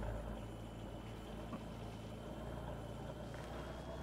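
A faint, continuous low car engine hum runs steadily throughout, in a farming simulator game, with no talking over it.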